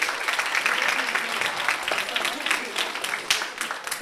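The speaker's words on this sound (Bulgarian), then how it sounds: "Аплодисменти." Studio audience applause on a television quiz show after a correct answer, a short burst of scattered clapping of moderate loudness with some uneven peaks.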